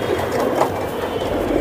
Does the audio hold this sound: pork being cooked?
no